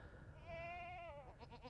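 A mama goat lets out one drawn-out bleat, followed by shorter wavering calls from the herd running around her on a farm, fairly faint against a noisy outdoor background.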